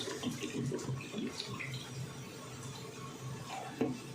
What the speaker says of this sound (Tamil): ரெண்டு லிட்டர் எண்ணெய் சேர்த்தாச்சு.